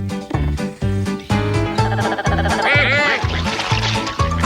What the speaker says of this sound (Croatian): 2 patke. Kvik i kvak.